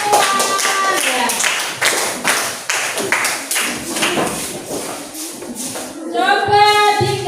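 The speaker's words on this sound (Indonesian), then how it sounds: "Tepuk tangan semua." A classroom of students claps for a group's presentation, with uneven clapping, taps and thumps mixed with voices and some tonal sounds.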